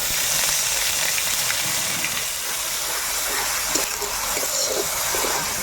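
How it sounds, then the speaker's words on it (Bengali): Dry red chilli, bay leaves and white cumin hitting hot oil in a pan, giving a steady, loud, close hiss and crackle that runs unbroken from start to finish with no talk over it. "তো মশলাগুলো তেলে ছেড়ে দিচ্ছি।"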